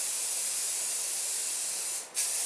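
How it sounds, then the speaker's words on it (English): A spray paint can hisses steadily as it coats a found flower pot stand, one continuous close spray that briefly cuts out and then resumes near the end. "So I'm spray painting"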